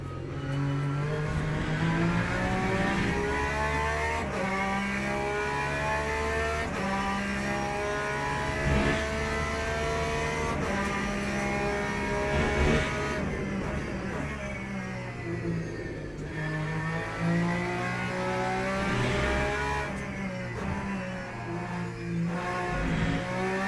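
A Porsche race car from the racing game Le Mans Ultimate drives laps, its engine droning and revving continuously with rising and falling pitch through gear changes, close and loud with no talking.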